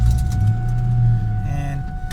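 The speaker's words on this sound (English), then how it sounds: "this Mustang is running smooth again, nice and responsive" A Ford Mustang V6 engine hums steadily while the car drives, a low continuous rumble with a faint whine above it that shifts slightly near the end.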